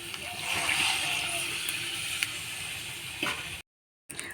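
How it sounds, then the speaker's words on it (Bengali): Water, the reserved potato-boiling water, is poured into a pan of frying potato curry, giving a steady hissing sizzle and splashing wash that runs for several seconds before dropping out abruptly. "আর অল্প করে জল দিয়ে দেবো।"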